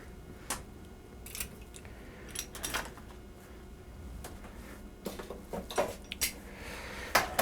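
Toasted bruschetta bread with melted cheese is set back onto a cutting board in a kitchen, making quiet, scattered taps, clinks and scrapes. The knocks are close and irregular, and no one talks.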